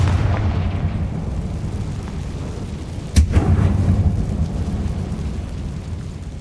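A Confringo blasting spell goes off in Hogwarts Legacy: one sharp, loud blast midway that settles into a short rumbling tail, set against a steady low, windy ambience with no voices.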